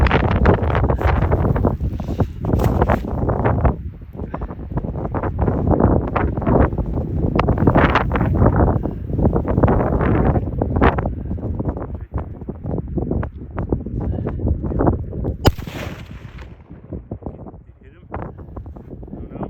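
Strong outdoor wind in Montana buffets the microphone with a loud, continuous roaring rumble and gusty flutter that rises and falls, with one sharper burst near the end.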